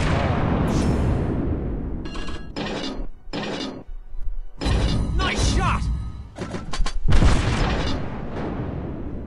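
Warship main guns fire shells in the naval game World of Warships, heavy booms and thuds spaced out over the clip among game effects, with someone talking over them.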